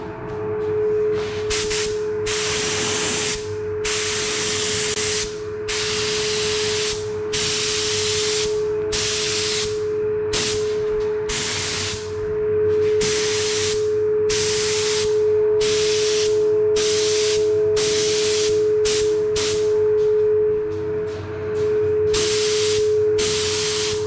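Spray gun laying down a fourth coat of candy red paint over a marble-effect base, heard as a long series of steady hissing bursts with short pauses between passes, loud and close, over a constant hum.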